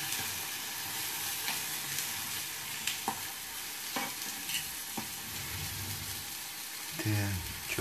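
Sunflower oil sizzles steadily in a frying pan, with a few sharp clinks and scrapes of stirring cutting through the constant crackle, close and moderately loud.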